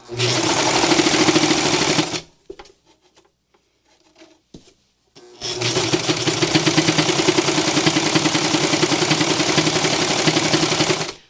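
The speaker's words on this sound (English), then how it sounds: "they do make a lot more noise than a traditional sewing machine does" A loud, rapid mechanical whirring of a serger cutting and stitching fabric runs steadily, stops for a few seconds of near silence with small clicks, then resumes just as loud.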